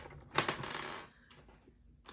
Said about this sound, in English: And my scoring blade just fell off